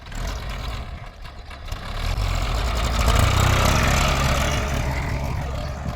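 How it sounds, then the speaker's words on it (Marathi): Tractor engine in a farm field during maize sowing, a low, steady idling rumble that grows louder and fuller partway through and keeps running without pause. "आता ट्रॅक्टरवर ट्रॅक्टर चालू करणार आहेत"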